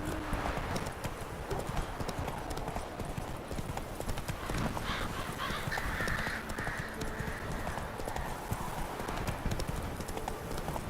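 Roach the horse in The Witcher 3 trots with steady, rapid clip-clopping hooves over a continuous noisy backdrop of game ambience, and a faint whinny surfaces midway through.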